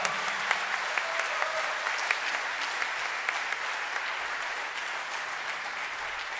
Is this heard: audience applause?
yes